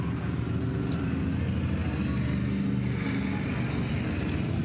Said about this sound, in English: Car number 21 rolling down the front straightaway.